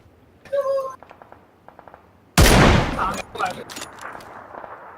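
Gunfire in a battle royale video game: a loud burst of shots breaks out midway and continues as scattered cracks and rattles, preceded by a short tonal game sound and faint clicks, with no one speaking.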